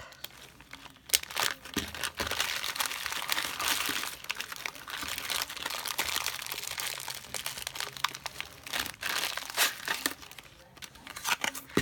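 Close, continuous crinkling and tearing of plastic and paper packaging as a knitting supplies package is pulled open, with a few sharper crackles.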